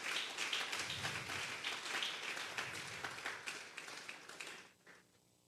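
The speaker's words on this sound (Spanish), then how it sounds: "Denle un fuerte aplauso pues al Señor esta tarde." Congregation applause at a Sunday afternoon church service, a full, steady round of many hands clapping that carries on for several seconds and then trails off toward silence.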